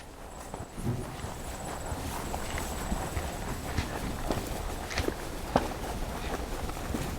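A two-year-old horse is ridden on its fifth outing through a gap near a flapping curtain, its hooves giving soft, steady clip-clop steps over a constant outdoor background, with no voices.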